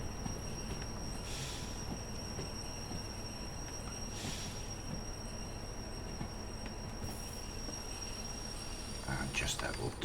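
A long freight train rolls forward in the Derail Valley railway game, with steady rumbling wheels on track and a few high squeals of wheels, continuous and fairly quiet.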